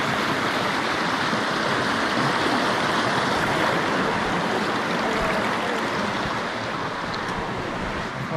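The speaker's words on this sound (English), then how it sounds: "I just love running water." A clear stream running over rocks beside a trail in Maine, a loud, steady rushing and splashing of water that continues unbroken and close by, with no voices.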